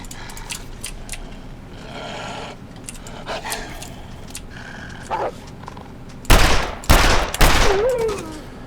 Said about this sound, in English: 3 shots on that dude. And I think every one hit.